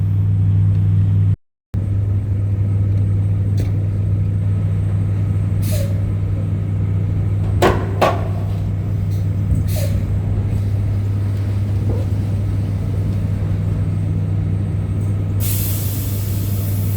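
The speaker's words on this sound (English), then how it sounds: "we get in the truck now, release a bit of pressure, you'll hear the pin pop out" A truck's air system venting pressure while parked for an axle slide, with a steady low engine rumble throughout, a few sharp hissing bursts and clicks in the middle, and a longer hiss near the end.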